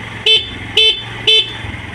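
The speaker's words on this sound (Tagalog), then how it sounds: "Busina po niya." A Keeway Icon 110 motor scooter horn beeps three times in quick, evenly spaced short blasts, loud and close, over a low idling engine.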